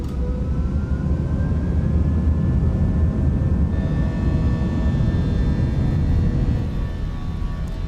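Airbus A319 jet engines roar steadily at takeoff thrust in a flight simulator, a loud continuous rumble with a rising whine layered on top, no voices over it.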